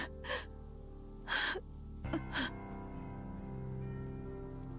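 Steady rain falls in Fate/Stay Night as a faint continuous hiss under a soft music bed, broken by a few brief louder swells.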